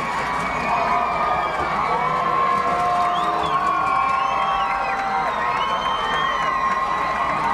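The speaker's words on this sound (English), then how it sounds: "Crowd very pumped up." Football game crowd at a 1998 high school game against DeWitt cheering and shouting loudly and steadily, with whoops and children's voices running through a dense, continuous roar.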